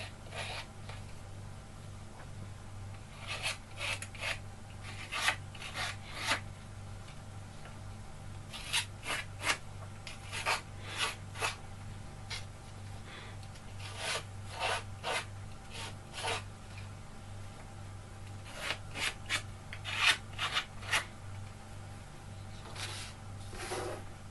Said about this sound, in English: I'm just going to take the clean cut edges off just to roughen them up a bit again.